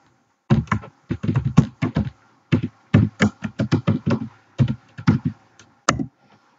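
A command is typed on a computer keyboard in quick, uneven bursts of crisp, close key clicks with short pauses between them, with no talking.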